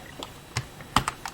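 Keys on a computer keyboard clack in a few quick, separate taps while a command is typed to set up an external USB hard drive on a Raspberry Pi 4. The taps are close and fairly quiet, with no voices.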